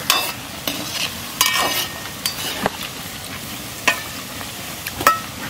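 Pakoras frying in oil, a few at a time, with a steady sizzle and occasional sharp scrapes and taps of a utensil against the pan, close and clear with no talking.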